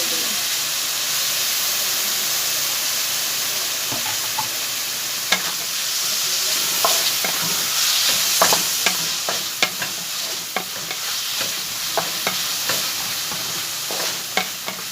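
Potatoes frying and being stirred with noodles in a pan for a breakfast dish, a steady sizzle under repeated sharp scrapes and clinks of the utensil against the pan, close and continuous.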